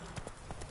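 Hooves of Roach, the horse in the video game The Witcher, clip-clop in a quick run of a few hoof falls, brief and fairly quiet against a busy game background.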